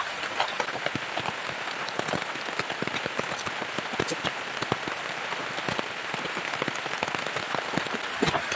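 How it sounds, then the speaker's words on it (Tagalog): Heavy rain pours down in a dense, constant patter on surfaces, loud and unbroken, with scattered sharper drops spattering close by and no voices. "Sobrang lakas ng ulan guys."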